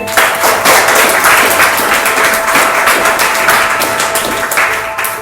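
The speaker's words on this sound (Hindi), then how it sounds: "यीशु मसीह के लिए ताली बजाएंगे।" Worshippers at a Hindi-language Christian church service clap for Jesus Christ, a dense, loud burst of applause filling the room throughout with no break.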